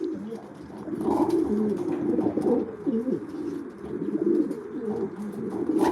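Racing pigeons coo continuously in a loft, layered low rolling warbles from several birds overlapping close by at moderate volume, with no talking.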